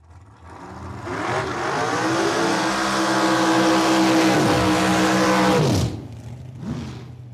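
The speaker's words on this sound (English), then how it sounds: "Couple big time burnouts with these two diggers. Putting some fresh rubber on the track." Drag racing cars rev hard during burnouts on a dragway track, a loud sustained engine roar that climbs and holds for several seconds, then cuts off, followed by a fainter second revving engine.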